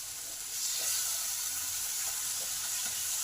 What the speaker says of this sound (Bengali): মশলার কাঁচা গন্ধটা যতক্ষণ থাকবে ততক্ষণ ভালো করে কষে নিতে হবে